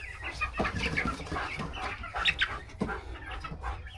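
Black Americana hens cluck and murmur nearby in soft, scattered bursts, with a few sharper squawks over a steady farmyard hum.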